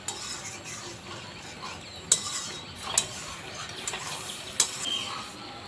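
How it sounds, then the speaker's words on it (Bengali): Vegetables cooked down with tomato paste in an uncovered pan: a soft sizzle runs underneath while a spatula scrapes and clinks against the metal in a few sharp strokes spaced a second or so apart. "ঢাকা তুলে সবজিটাকে ভালোভাবে কষিয়ে নেব।"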